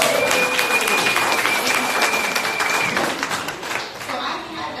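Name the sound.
crowd applause at a political rally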